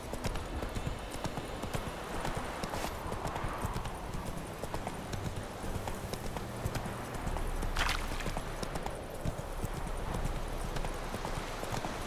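A horse's hooves clip-clop steadily in The Witcher 3 video game, with a continuous run of close hoofbeats over an outdoor game ambience and a brief snort or whinny partway through.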